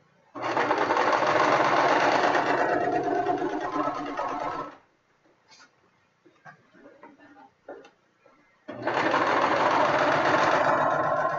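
A sewing machine stitching a hoop crinoline runs in two long, loud, steady whirring bursts, separated by a quiet pause filled with faint clicks and fabric handling.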